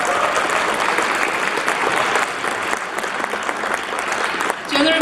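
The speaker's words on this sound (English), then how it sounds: "Please give him the big round of applause." A round of applause at a national day reception honoring a newly promoted general; loud, dense clapping from a sizable crowd continues throughout.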